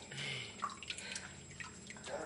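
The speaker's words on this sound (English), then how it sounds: "She's getting a bath. She got warm water," Warm water in a baby's bath, with soft drips and light splashing sounds, quiet and close, with a faint voice nearby.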